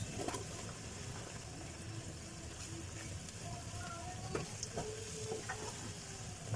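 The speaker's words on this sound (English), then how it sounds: "I'm going to be adding the beetroot fiber that I got after making juice out of my beetroot." Leftover beetroot fiber from juicing fries with sautéed onions in a pan, a steady sizzle with occasional stirring scrapes and no voices.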